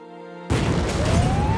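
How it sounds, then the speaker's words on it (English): A bomb explosion in a film trailer bursts in abruptly after a quiet tonal passage, a loud broad blast that rolls on with dense rumbling debris and a rising whine underneath. "Es gab eine Explosion."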